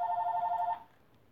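A telephone rings indoors in a single steady electronic trill that lasts most of a second and then cuts off, leaving a quiet room.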